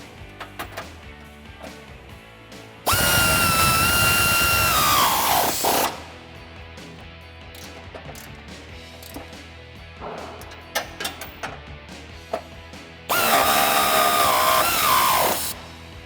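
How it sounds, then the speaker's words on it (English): A power tool whirs loud and steady for about three seconds, then again near the end, snugging down 15mm bolts on a Barricade Extreme HD grille guard for a 2007-2013 Silverado or Sierra 1500. "And now we can snug down these 15mm bolts."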